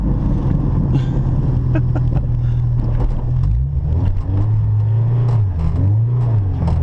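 A modified 1992 Honda Civic hatchback engine revs high and steady while driving, its loud droning tone rising and dipping with throttle changes, with faint road noise around it.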